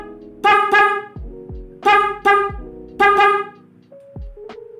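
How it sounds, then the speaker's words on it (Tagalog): A car horn wired through a newly installed relay sounds in three close, loud double blasts, each pair of short honks followed by a pause. "So, ibusina natin."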